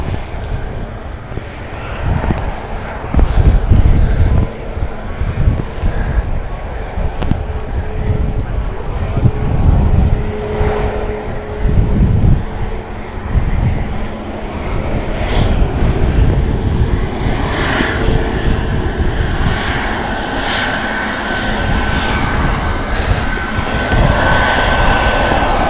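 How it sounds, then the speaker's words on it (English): A Ryanair Boeing 737 MAX 200 jet at Stansted Airport gives a loud, sustained engine roar with wind buffeting the microphone, continuous throughout. "This is the 737 MAX 200 here from Ryanair."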